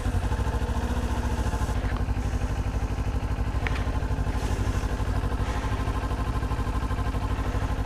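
A Kawasaki Ninja 400 motorcycle idles in neutral close by, its engine giving a steady, even, continuous pulsing thrum with a few faint clicks over the top.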